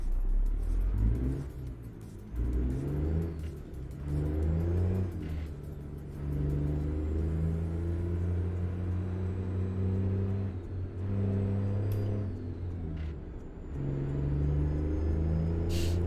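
A heavy Kenworth W900 truck engine in a trucking video game revs repeatedly in neutral while stationary, rumbling low and rising in pitch with each push, then dropping back between revs.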